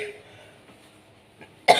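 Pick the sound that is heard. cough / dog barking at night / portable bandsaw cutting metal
cough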